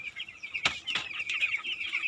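Chickens on a farm by rice paddies, with a clear high-pitched rooster-like call and clucking running throughout, close and steady with brief louder bursts.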